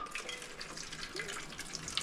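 Filtered water runs quietly in a steady trickle into stainless steel ice cube trays, splashing faintly as they fill up.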